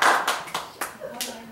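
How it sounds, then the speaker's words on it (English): An audience at a small live music night claps for a performer, a short, light patter of a few hands, close and fairly soft, thinning out after the first second. "give it up, give him a back up of applause."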